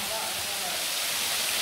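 Steady rushing water roars from a large bushland waterfall between Faulconbridge and Springwood, a constant broadband hiss with no breaks.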